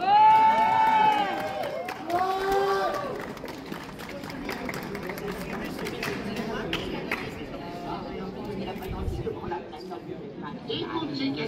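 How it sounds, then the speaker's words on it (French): Audience at a cosplay contest at the Epitanime 2025 convention claps and cheers in a dense, fairly near burst that fades to a sustained crowd murmur while a voice calls out over it. "je vous demande de l'applaudir bien fort"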